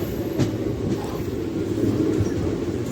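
A train rumbles steadily into Kollam Junction, with continuous low wheel-and-carriage noise, faint clatter and a brief squeal, loud and close throughout.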